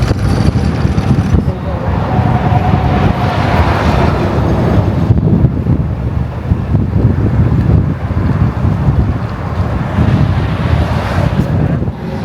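Strong, rushing wind roars through the open window of a car moving on a highway shoulder past an accident, with loud, steady buffeting across the whole stretch and a voice talking underneath.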